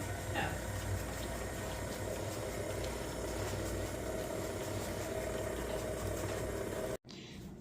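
An electric stand mixer runs on its lowest speed, stirring farm-fresh eggs into double chocolate cowboy cookie dough, a steady close motor drone and whir that cuts off abruptly near the end.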